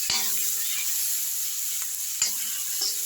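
Tomatoes frying in hot oil for a capsicum lunch dish, giving a steady close sizzle with a few sharp clicks of a spoon stirring the pan and no talking.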